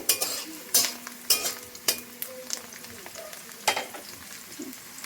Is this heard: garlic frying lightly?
yes